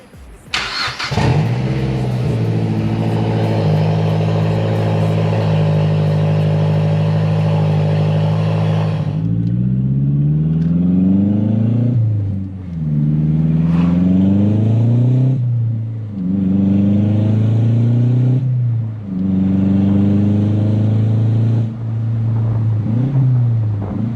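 A 2012 Mazdaspeed 3 starts up and idles with no exhaust fitted and one catalytic converter removed, a loud raw drone that settles, then swells in several sharp revs that rise and fall in repeated bursts.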